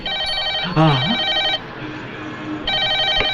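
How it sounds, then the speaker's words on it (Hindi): An electronic telephone ring trills in repeated bursts, broken by a brief vocal sound and a pause before the ringing resumes, close and clear. "शुभ मुहूर्त पर शुभ घंटी बजी है।"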